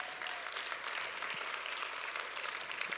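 A church congregation applauds at a Spanish-language service, a dense, steady wash of clapping that holds evenly throughout without pause.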